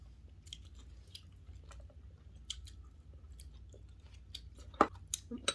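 Someone nearby chews tender young spiny ginseng (gasiogapi) shoots, making quiet, intermittent wet crunching and mouth sounds over a low background hum, with one louder crunch near the end.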